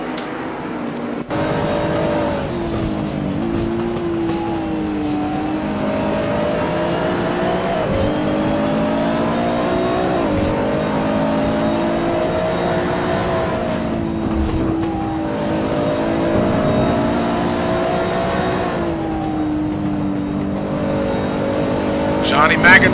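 Race cars in a Watkins Glen racing game, including a Nissan GT-R, roar continuously at close range with rising and falling engine pitch as they run in a tight pack, under steady commentary.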